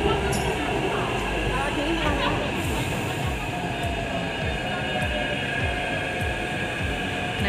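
A Taipei metro train rolls into a station on the green line, a loud steady rumble of wheels and motors with faint squeals, continuous throughout.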